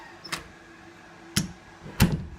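An old wooden study door on a farm swings closed, giving three separate soft knocks and clicks spread over a couple of seconds, close by with quiet room tone between them.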